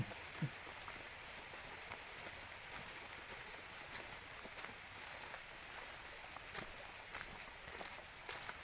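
Faint, steady rain patters on surfaces with scattered drops tapping irregularly, no one speaking.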